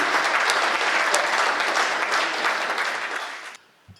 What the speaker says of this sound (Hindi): तालियां घनीभूत हो